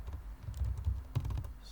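Short bursts of keystrokes on a computer keyboard while code is typed, close and fairly quiet, with an irregular tapping rhythm and no talking.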